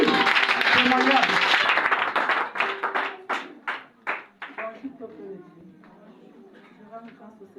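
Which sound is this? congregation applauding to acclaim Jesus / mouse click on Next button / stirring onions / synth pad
congregation applauding to acclaim Jesus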